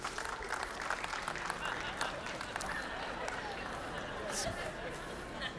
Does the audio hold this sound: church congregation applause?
yes